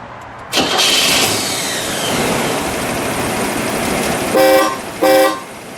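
A car engine cranks and catches, then settles into a smooth idle. Two loud, separate horn blasts follow near the end. No voices are heard.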